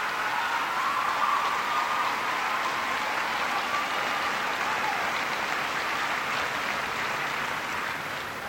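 Sustained applause from a large crowd at a presidential speech in Florida, a steady dense wash of clapping that carries on without pause and fades slightly toward the end.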